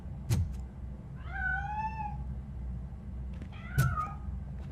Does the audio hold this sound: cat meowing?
yes